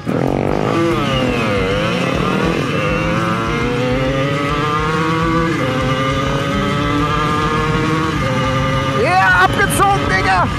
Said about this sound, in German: Getunte Simson, ich am Gasgriff.